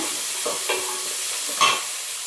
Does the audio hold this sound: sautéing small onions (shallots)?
yes